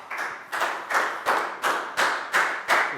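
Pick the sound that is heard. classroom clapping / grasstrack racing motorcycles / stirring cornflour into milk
classroom clapping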